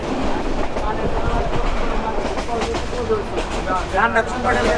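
Mahanagar Express passenger train running between Chittagong and Dhaka, with a steady rumbling rail roar and rattling from inside the carriage, continuous and fairly loud, with voices murmuring faintly underneath.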